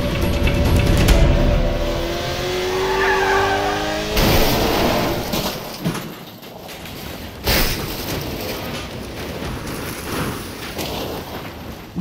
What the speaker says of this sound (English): Fans pack the stands near the racing pits as their favorite drivers race by at astonishing speeds.